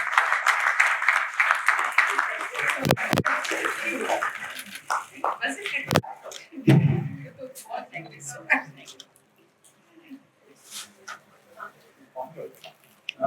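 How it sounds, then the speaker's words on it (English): Guests at a family-organized retirement party clapping for a retiree, a burst of applause for the first few seconds, then scattered claps and noises fading into a quieter stretch with some speech-like sounds. "Please give a big round of applause for Jayasuriya ma'am."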